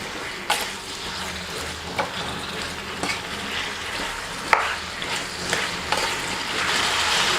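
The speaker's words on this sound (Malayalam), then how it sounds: "ഇനി ഈ നാരങ്ങയെ 5 മിനിറ്റോളം ഈ എണ്ണയിലൊന്ന് നന്നായിട്ട് വാട്ടിയെടുക്കണം കേട്ടോ." Lemon pieces sauté in hot oil in a pan for a quick pickle, a continuous loud sizzle broken every second or so by sharp scrapes and clinks of a stirring spoon.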